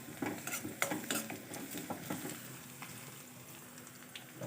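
Green chili pieces sauté in a little oil, giving a quiet, close sizzle under several light metallic clinks and scrapes of a stirring spoon in the pan, with the clinks thinning out toward the end.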